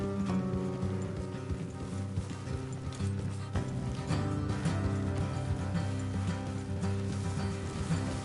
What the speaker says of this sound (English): Let's leave the horses here and go the rest on foot.